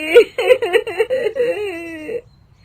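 A woman crying at night, sobbing in short broken wails that rise and fall for about two seconds, close and loud, then stopping into quiet.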